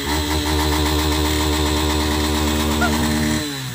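A brand-new motorcycle engine runs steadily at close range, a loud buzzing drone with a constant rhythm that eases off at the very end, with no voices.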